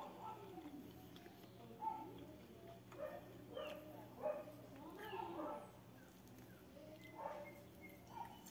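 A dog barking from inside a house: a few short, muffled barks and yips at a distance, spread across the stretch under ongoing room noise and low background voices.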